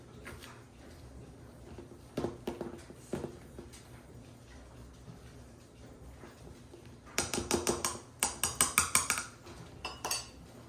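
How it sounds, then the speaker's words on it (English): A utensil scrapes and clinks against a bowl while banana oat raisin muffin batter is stirred, first a few scattered knocks, then a quick run of rhythmic clinking strokes, close up with no talking. "And we'll stir this up just enough to mix it."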